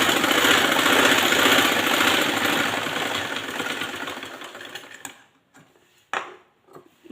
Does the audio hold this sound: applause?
no